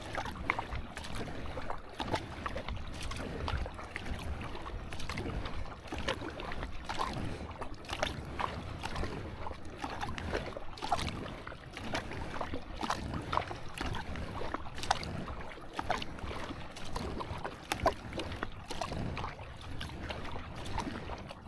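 Wing paddle strokes pulling a kayak through open water on a downwind run, a steady rhythm of splashes and dips under constant wind buffeting the microphone, close and continuous with no talking.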